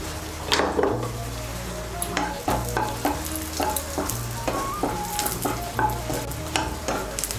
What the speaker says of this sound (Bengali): কাজু বাদামগুলোকে একটু নাড়াচাড়া করে নিয়ে এর মধ্যে আমি কিশমিশগুলো দিয়ে দেব